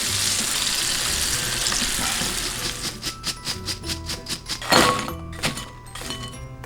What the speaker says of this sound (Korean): 피망은 엄청 짧게 튀겨줍니다